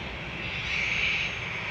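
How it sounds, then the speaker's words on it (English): An easyJet Airbus A320 bound for Alicante lining up for takeoff at Manchester Airport, its jet engines a steady, moderately distant roar that swells slightly midway, with no talking. "EasyJet going to Alicante is lining up in front of us."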